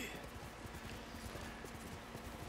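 Horse hooves from the video game Ghost of Tsushima, a steady rapid clip-clop of a galloping horse running continuously under a busy game soundscape.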